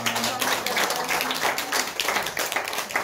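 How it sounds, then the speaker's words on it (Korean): Clapping from a congregation at a church service honoring newly ordained deaconesses, a dense and continuous round of hands that runs the whole time without speech. "우리 큰 박수 하겠습니다."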